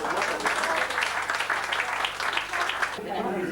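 Audience applause at a 2000 event in Metz, dense clapping that carries for about three seconds before it stops abruptly, with some voices mixed underneath.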